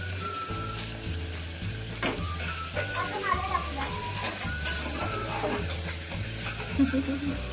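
Onion frying in a pan for misal, with steady sizzling and repeated stirring scrapes, while children talk and play nearby and a low rhythmic hum runs underneath.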